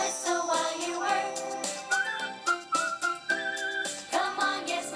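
Cheerful whistled melody in a song, carried over bright music with steady instrumental backing throughout, clear and prominent.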